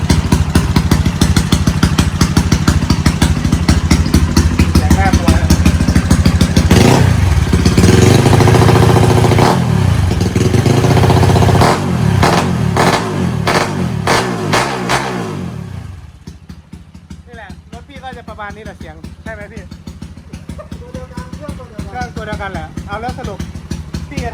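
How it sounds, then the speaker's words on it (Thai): Honda Wave motorcycle engine catching on its genuine electric start, then running and revving loudly close by with clattering mechanical noise before dropping to a quieter idle; someone talks over it. "อันนี้เป็นระบบสตาร์ทมือแท้นะครับ สตาร์ทมือแท้ ที่เดียวติด"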